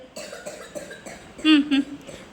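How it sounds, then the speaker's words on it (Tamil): Quiet background murmur, then two short, sharp coughs close by, one right after the other. "மேடத்துக்கு வந்து இருமல்."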